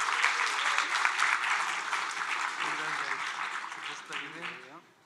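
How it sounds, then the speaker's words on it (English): An audience claps steadily at a hackathon closing ceremony in Kraków as winners come on stage. The applause is dense and sustained, then fades out over the last second. "Some applause, please."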